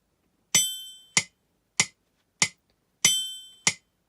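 Yamaha PSR-EW410 keyboard metronome ticking in 4/4, six sharp clicks at a steady tempo, each bar opening with a brighter, ringing accented bell-like click followed by plainer wooden ticks, clear and alone.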